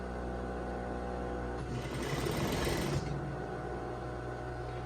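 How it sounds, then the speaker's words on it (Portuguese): A sewing machine runs a short burst of stitching on a zippered lab coat, a rapid mechanical whir lasting under two seconds between quiet pauses, close by with no speech. "eu vou vir com a costura até aqui, nesse ponto"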